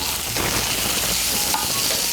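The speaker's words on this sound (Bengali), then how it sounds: "মিশিয়ে নিয়ে আলু আর সজনে ডাঁটাটাকে একটু ভেজে নেব।" Potato and drumstick pieces fry in a pan with salt, turmeric and chilli powder, giving a steady, close sizzle that holds evenly throughout with no talking.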